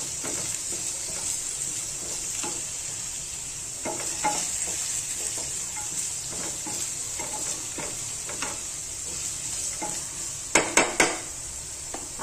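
Diced potatoes for a fasting dish frying in a pan on low gas, giving a steady soft sizzle with occasional stirring scrapes and a few sharp utensil clinks near the end, with no talking.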